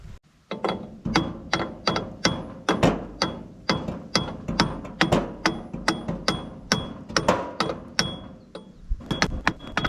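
Hammer blows striking a stuck tie rod on an Allis D17 Series IV tractor, a quick irregular run of sharp metallic taps up close, continuing throughout with no speech.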